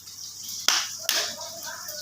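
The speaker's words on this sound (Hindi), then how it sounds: "हाँ देखो तो ताली मारी" Two sharp hand claps about half a second apart, close and crisp, with a faint voice in the background.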